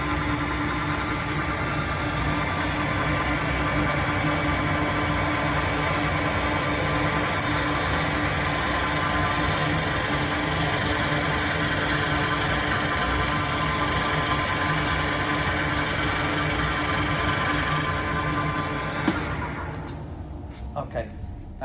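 A wood lathe runs with a steady, dense whir while a chisel rides along the spinning workpiece, producing a continuous scraping cut. Speech is heard over it, and near the end the machine winds down and quiets.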